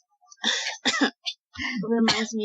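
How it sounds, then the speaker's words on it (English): A few rough, harsh coughs and throat-clearing bursts in quick succession, close and fairly loud, followed by a raspy vocal sound. "You cough for a few seconds before it disperses"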